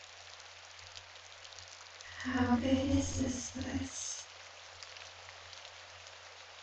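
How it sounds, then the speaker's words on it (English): Rain beats against the side of a barn in the wind as a steady, even hiss, while a voice speaks briefly over it in the middle. "I hear the building creak under pressure as the wind blows and the rain hits the side of the barn"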